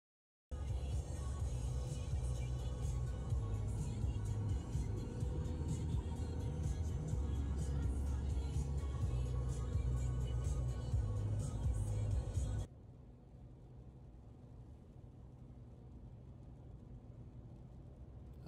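A car driving on an early-morning trip to a lake for fly fishing in British Columbia, a steady low engine and road rumble for about twelve seconds before it drops to a quieter hum.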